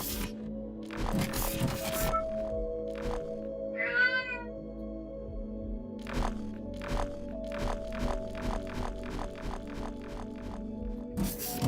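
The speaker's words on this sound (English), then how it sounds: "She's a loudmouth. She's a noisy cat." A noisy pet cat meows loudly and repeatedly, close up, with drawn-out calls spaced a few seconds apart alongside scattered clicks, thumps and scraping handling sounds, with no talking.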